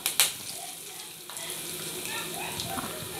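Curry leaves and turmeric hit hot oil already holding cumin and asafoetida, with a couple of sharp crackles at the start and then a steady close sizzle, and a voice speaks over it.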